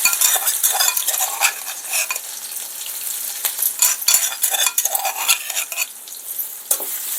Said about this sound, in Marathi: तेल गरम झाले, आता आपण त्याच्यात लसूण आणि हिरवी मिरची बारीक केली ते टाकून घेऊ.